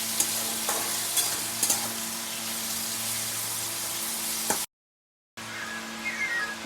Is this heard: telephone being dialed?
no